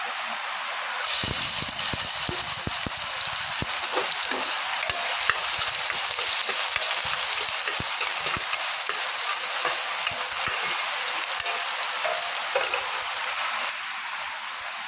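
Chopped onion and green chili hit hot oil and fry in a loud, steady sizzle that fills the pan, with stirring clatter breaking through; no one speaks over it.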